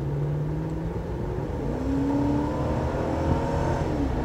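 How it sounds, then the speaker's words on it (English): A 2002 Lexus SC 430 accelerating hard on the road, a steady engine drone with rising tones as revs climb and shift, heard from inside the car with no talk. "Here's an acceleration run."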